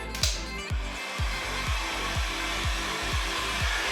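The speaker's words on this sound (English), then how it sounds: "now what I wanna do is apply heat to the vinyl to loosen it up." A heat gun blows steadily at close range while warming vinyl wrap for a car mirror frame, a continuous airy whoosh with a low rumble and soft repeated rubbing scrapes underneath.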